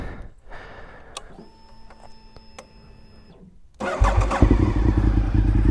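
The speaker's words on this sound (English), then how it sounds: "dying to hear the exhaust and to hear the bike run." A Honda RC51 motorcycle cranks and catches, then its engine and exhaust settle into a loud, rumbling idle close by.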